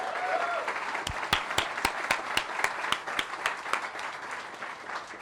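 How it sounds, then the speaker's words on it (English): Audience applause at a downtown Washington, DC ribbon-cutting for a company headquarters, a steady wash of clapping punctuated by a series of sharp, louder individual claps at a fairly regular rhythm. "let's give Virtru another round of applause"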